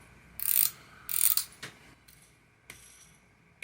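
Star drag of an Abu Garcia Revo SX Gen4 baitcaster reel being unscrewed: two bursts of rapid close ratcheting clicks, then a few separate small metallic ticks, with no talk.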